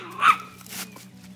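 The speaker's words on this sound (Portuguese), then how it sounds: "Gente do céu, esse projeto de cachorro." Single short dog bark, close and moderately loud, followed by soft snuffling noises in a quiet room.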